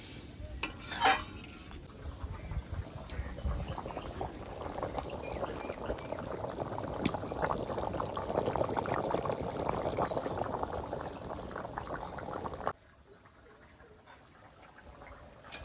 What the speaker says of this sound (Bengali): জল দিয়ে দিয়েছি, এবার তরকারিটা একটু জাল হবে।